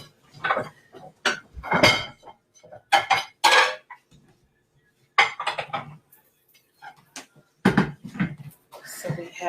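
Plates and bowls clink and knock in short, scattered bursts as a Thanksgiving table is set, close and fairly loud, with quiet pauses between the clatters.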